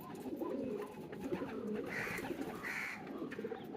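A lost pigeon coos softly on a farm, a few low, throaty phrases rising out of a steady murmur of background noise, with no voices.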